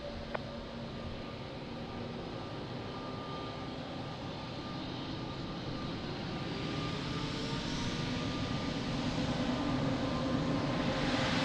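An airplane takes off from runway 02 at Lisbon Airport, its engine roar a broad steady rumble heard from a distance that slowly swells louder over the whole stretch, with no voices.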